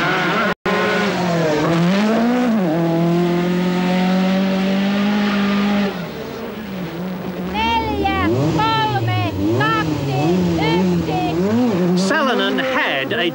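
A now fully fit Peugeot rally car at the 1985 1000 Lakes Rally, its engine loud and close, climbing and dropping through gears with sweeping pitch changes and a brief cutout near the start, while a voice talks over it.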